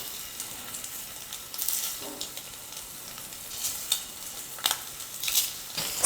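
Egg masala fries in a pan over a low flame, a soft steady sizzle broken by light scraping and stirring clatters, with no voices.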